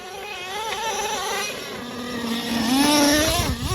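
A Traxxas Slayer Pro nitro RC truck on Talon tires runs with a buzzing, high-pitched engine whine that rises and falls as the throttle changes, swelling louder near the end.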